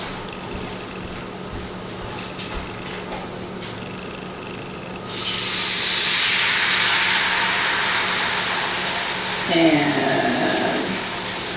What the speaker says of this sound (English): So I will pour the entire half carton into my pan over my sauteed mushrooms and red